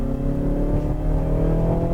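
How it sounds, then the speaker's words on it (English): A 2017 Mazda6 sedan's engine revs during a test drive, a steady, close mechanical hum with layered tones that builds slightly over the short stretch, and no talking. "Again, you can hear that engine revving up"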